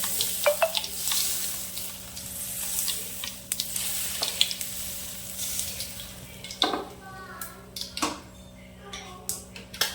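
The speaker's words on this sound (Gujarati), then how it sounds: "હવે આપણે આ વઘારને ઢોકળા પર નાખી દઈશું." Hot tempering of oil and mustard seeds is poured onto dhokla, bringing crackling pops and sharp sizzling bursts over a constant kitchen hum, with scattered clinks of utensils.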